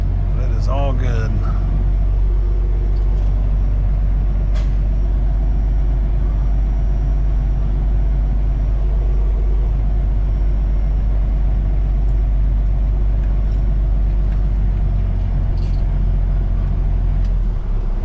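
A propane delivery truck's engine running as it drives, with a loud, steady low rumble throughout, nearby and unbroken, and a brief voice near the start.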